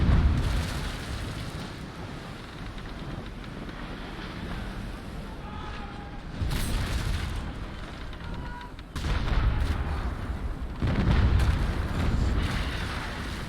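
Ship cannon fire in the naval video game World of Sea Battle, with several heavy booms arriving over a steady roar of wind and surf, loud and fairly close.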